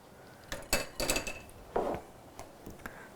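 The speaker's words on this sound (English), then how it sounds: "So now I'm gonna whisk this in" A powdered sugar mixture whisked in a bowl, heard as a few sharp clinks and scrapes of the whisk against the sides, irregular and close, with quiet gaps between strokes.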